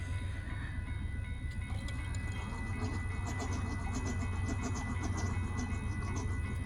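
A northbound train rolls past in the evening, a steady loud rumble of wheels and carriages with faint rail clatter and high squeal throughout, no voices.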